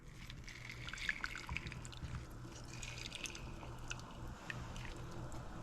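Chopped garlic and green onion dropped into a pot of water, soft liquid drips and small splashes that stay faint and close, with no talking.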